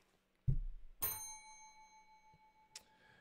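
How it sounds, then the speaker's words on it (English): A purchased bell is struck once, giving a sharp clear ring that hangs and slowly decays, followed by a fainter second tap near the end, in a quiet room. "I did buy a bell"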